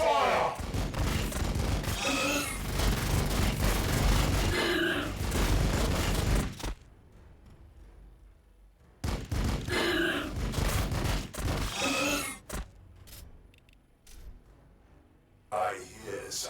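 Rapid volley of gunfire in the Warhammer 40,000 BattleSector strategy game, loud and dense bursts mixed with shouted battle voices, breaking off into quiet gaps before another burst.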